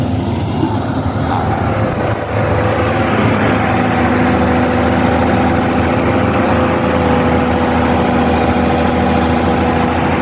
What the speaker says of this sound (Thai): เครื่องยนต์ยังแรง